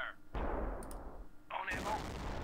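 A gun turret in the strategy game Battle Islands: Commanders fires heavy booming shots with rumbling low-end blasts, followed by a brighter burst of crackling explosion noise near the end.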